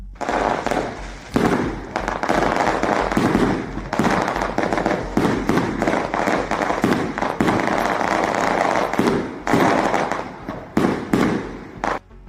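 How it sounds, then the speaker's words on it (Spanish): Fireworks launched during a collective birthday celebration in favela communities, a loud, dense barrage of rapid cracking bursts and pops continuing throughout with only short lulls. "comunidades bajo control del Cártel de Valle lanzan fuegos artificiales en una"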